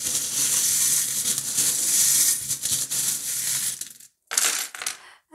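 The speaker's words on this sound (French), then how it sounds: "je vais remettre deux petites breloques que j'ai" Small metal charms being dropped and jostled for a tarot reading, a dense close clatter and jingle that runs for several seconds, then a short gap and one more burst of rattling, with no talking.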